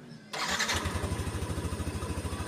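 A motorcycle engine starts up once the anti-theft system has been disabled: a burst of cranking, then the engine catches and settles into a steady, close, rapidly pulsing idle.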